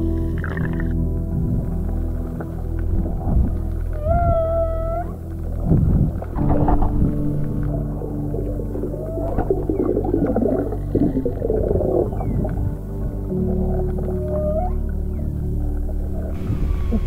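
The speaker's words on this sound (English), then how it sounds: "The sounds you hear through the awkward noise of the GoPro underwater are whales." Whale songs recorded underwater on a GoPro, with tonal calls and moans rising through constant low camera and water rumble, fairly loud and repeated across the whole stretch.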